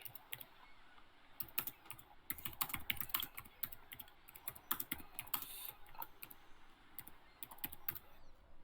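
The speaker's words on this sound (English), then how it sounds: "Give me a second, I am typing." Steady typing on a computer keyboard, quick irregular clacks in bursts lasting several seconds, close and fairly quiet with no talking.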